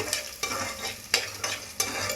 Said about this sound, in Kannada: ಮೀಡಿಯಮ್ ಫ್ಲೇಮಲ್ಲಿ ಬೆಳ್ಳುಳ್ಳಿ ಮತ್ತು ಶುಂಠಿನ ಹಸಿ ವಾಸನೆ ಹೋಗೋವರೆಗೂ ಸ್ವಲ್ಪ ಫ್ರೈ ಮಾಡಿಕೊಂಡು